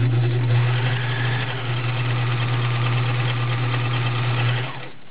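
A vintage Kenmore 1357 sewing machine runs a zigzag stitch in one steady, loud, continuous hum with a strong low drone, holding even for about five seconds before it eases off.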